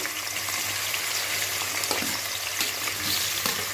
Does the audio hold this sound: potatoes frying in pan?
yes